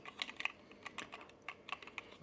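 A room thermostat regulator plate is snapped onto its wall-mount plate, giving a run of small, sharp plastic clicks and taps, close and quiet, with no talking.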